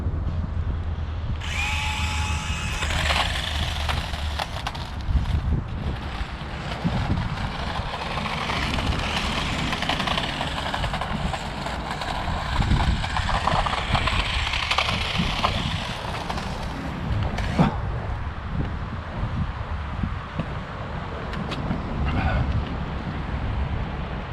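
Dickie Toys RC toy motorbike running at full throttle, a continuous high-pitched electric motor whine that rises and dips slightly, close and steady throughout, with no voices.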